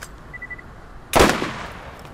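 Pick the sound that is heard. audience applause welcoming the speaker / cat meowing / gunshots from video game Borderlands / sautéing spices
gunshots from video game Borderlands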